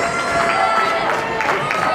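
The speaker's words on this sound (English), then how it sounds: "And the crowd goes wild" A crowd cheers and roars at a junior varsity basketball game, Fusion against the ECA Stars, right after the last-shot win. The noise is a steady, dense wash of voices throughout.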